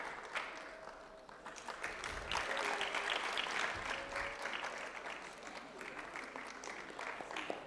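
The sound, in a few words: graduation ceremony applause for valedictorian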